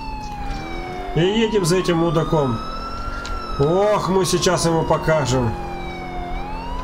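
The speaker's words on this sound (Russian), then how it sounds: "Так, включаем сирену." Police car siren in the video game Grand Theft Auto IV, a rising-and-falling wail with two bursts of rapid yelping in between, loud and continuous, while someone talks over it.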